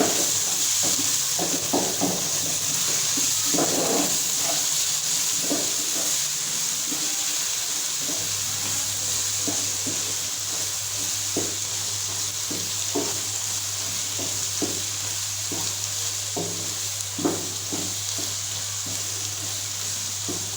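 Spiced egg keema frying in a pan under a continuous loud sizzle, with repeated spatula scrapes and knocks marking the stirring at an uneven rhythm.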